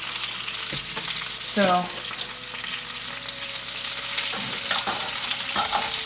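A steak sears in a hot pan turned up to higher heat, with a loud, continuous close sizzle, occasional utensil clinks and scraping, and a brief spoken word near the start.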